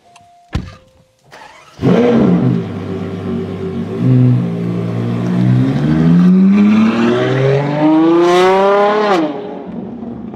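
A Ferrari Purosangue V12 with a Novitec race exhaust and flaps starts with a thunk, then revs loudly and rises steadily to a high scream before dropping away, all close up.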